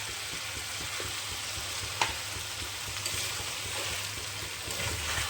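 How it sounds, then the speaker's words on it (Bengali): Potatoes sizzle steadily in a pan for Kashmiri aloo dum, a close, even frying hiss with occasional soft scrapes and clicks of stirring. "ভালো করে কষিয়ে নেব।"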